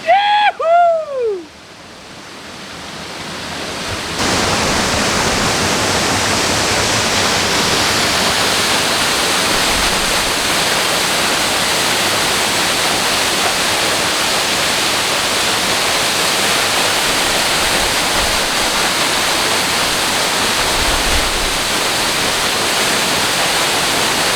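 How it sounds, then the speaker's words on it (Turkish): A rushing stream near a waterfall gives a loud, steady broadband roar that fills the whole clip after a brief whistling sound at the start. "Dere sesinden dolayı dere sesini bastırmak için konuşuyorum."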